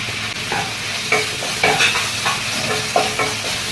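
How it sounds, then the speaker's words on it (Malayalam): Ginger, garlic, green chili and curry leaves sautéing in a pan, a continuous sizzle broken by the scrape and clatter of a spoon stirring several times, close and loud with no talk. "എന്നിട്ട് വീണ്ടും വഴറ്റി ഒരു ചെറിയൊരു ബ്രൗൺ കളർ ആവുന്നിടം വരെ വഴറ്റുക."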